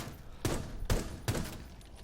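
Gunfire in Rainbow Six Siege punching through blue containers, three sharp shots about half a second apart, each with a short crackling tail, fairly quiet and with no talking.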